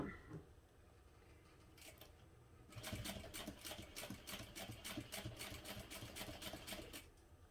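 A sewing machine stitches a fabric tote bag, with a soft hum at first and then a fast run of rhythmic mechanical clatter from the needle, close and fairly quiet.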